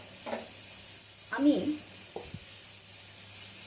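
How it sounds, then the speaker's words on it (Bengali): A steady sizzling hiss of vegetables, including capsicum, frying in a pan, with brief stirring clatter and a short spoken word over it. "এবার এটা একটু ভাজা ভাজা হোক"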